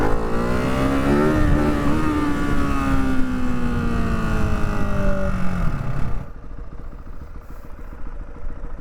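A 2024 Husqvarna-style Hypermono 698 single-cylinder motorcycle riding past, its loud engine note rising then dropping in pitch as it passes close by, fading off into the distance after about six seconds.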